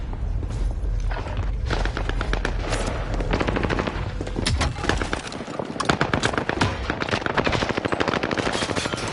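Sustained automatic gunfire from a Warzone match, loud and dense bursts of rapid shots layered with thuds and booms, continuing almost without pause through the whole stretch.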